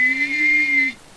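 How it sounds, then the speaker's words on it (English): A person whistles and hums at once, producing a single steady sustained two-layered tone about a second long that cuts off abruptly, eerie and theremin-like, close and clear. "Whistling and humming at the same time."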